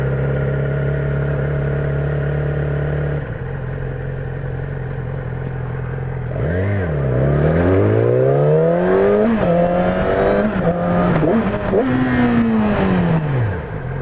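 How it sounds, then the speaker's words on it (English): Motorcycle engine idles steadily, then revs up through the gears in second before cutting hard into engine braking for a fast stop, the pitch swooping down and rising again, loud and close. "So I'll show you one more time, stopping fast with my engine."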